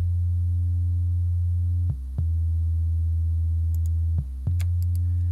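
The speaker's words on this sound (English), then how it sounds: "it's just a sine wave" A pure sine-wave bass line programmed in FL Studio, a steady low tone holding throughout with two brief dips in pitch, alone with no voices and a few faint ticks near the end.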